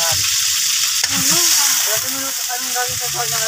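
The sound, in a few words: hotdog-like food frying in a pan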